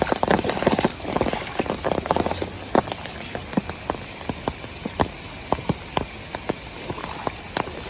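Heavy monsoon rain pours down in Udupi during flooding, a dense, steady wash of water with sharp drip and splash impacts scattered throughout.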